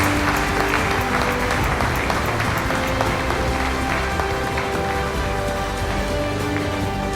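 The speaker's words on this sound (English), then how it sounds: "let me hear the biggest round of applause" A large crowd at a mutual fund awards ceremony claps steadily and densely, a continuous rain-like wash of applause that holds at an even, fairly loud level throughout.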